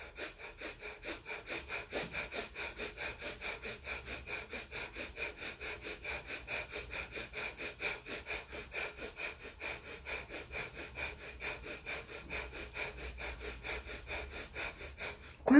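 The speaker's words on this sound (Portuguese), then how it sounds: "é você respirar rapidamente, né? É aquela respiração que você faz pelo diafragma" Rapid diaphragmatic breathing in a quick, even rhythm of short, sniff-like breaths, repeating steadily for about fifteen seconds, close and moderately quiet.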